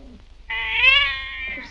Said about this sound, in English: You're twisting that poor cat's ears off.